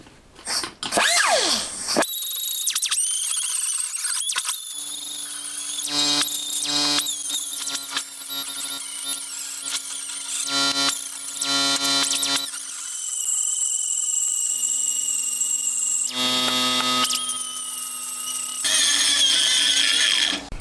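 A power tool, likely a drill or grinder, whines loudly and steadily with shifting pitch and squeals as it strips impurities from a Honda Monkey engine's cam chain side cover before welding, briefly pausing and restarting, with no talk.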